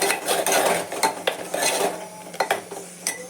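Chicken masala with salt roasts in a pan under close, rhythmic scraping and clanking of a metal spoon against the pan, with a faint sizzle between strokes and no speech.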